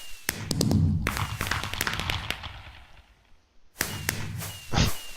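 Fireworks launched in a Minecraft-style dungeon game: sharp popping launches and crackling bursts in a quick cluster, then a quieter lull, then another burst of pops and a whooshing thump, close and fairly loud.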